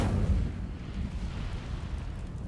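An Incendio fire spell cast in the video game Hogwarts Legacy gives a deep, booming burst of flame that settles into a steady low rumble, loud and close, with no talking.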